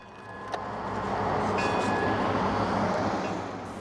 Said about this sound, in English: there's a never-ending truck traffic